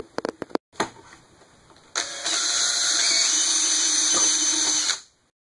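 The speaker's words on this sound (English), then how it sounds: "We'll start out with a small pilot bit, and then we will countersink for the head of the carriage bolt next." A portable drill press bores a small pilot hole for a carriage bolt in a router dovetail jig, a few short taps, then a steady high-pitched motor whine with the bit cutting for about three seconds before stopping, close and loud.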